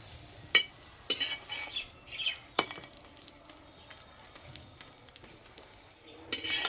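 Suji-aloo snacks frying in a little oil in a covered pan, with a low, patchy sizzle broken by several sharp metallic clinks and scrapes of a utensil on the pan.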